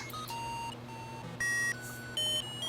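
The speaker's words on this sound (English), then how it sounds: "maybe mirrors the duration of R2D2's beeps and boops" R2-D2-style electronic beeps generated by a program on a Texas Instruments calculator: a quick string of pure tones jumping between different pitches, each held briefly, with a couple of louder blips standing out.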